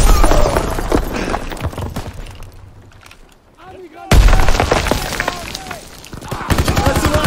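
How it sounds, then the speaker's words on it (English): A grenade detonates in the video game Call of Duty: WWII during a woodland battle, a sudden loud close blast after a brief lull, surrounded by steady rifle and machine-gun fire and shouted voices. "Grenade out!"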